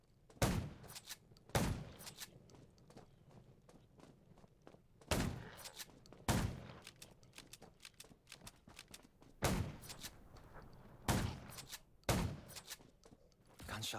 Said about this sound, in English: Gunshots at the junkyard.